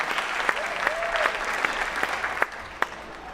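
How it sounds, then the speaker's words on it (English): A round of applause from a crowd at a school district convocation, a continuous clapping wash with a few sharper nearby claps standing out, while a voice briefly carries over it. "give them a round of applause for all the hard work that they do"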